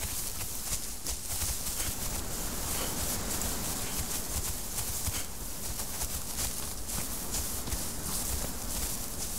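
Horse hooves clip-clop steadily in the video game Conan Exiles, a continuous run of close footfalls over a dense, noisy game background.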